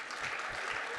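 Audience at a campus science lecture applauding, a brief, even wash of clapping heard at a distance and fairly faint, with no voices.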